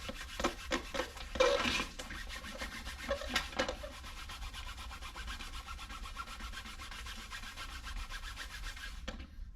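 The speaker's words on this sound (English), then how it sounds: "I'm gonna wipe this down. Lacquer thinner, try and get all the grease off." A rag wiped with lacquer thinner rubs across an old door panel to strip grease, giving close, uneven scrubbing strokes, busier at first and then settling into a steady soft rasp.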